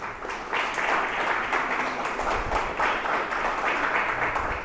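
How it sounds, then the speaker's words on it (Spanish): An audience gives a warm round of applause to welcome a veterinarian speaker at a lecture, even continuous clapping from many hands at moderate loudness across the whole stretch. "les pido le den un caluroso aplauso, por favor"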